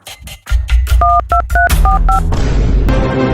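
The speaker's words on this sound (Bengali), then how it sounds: "এই লুচা লিটনকে ফোন লাগা" Rapid telephone keypad tones beep several times in quick succession over low rumbling background noise, followed by a steady hiss.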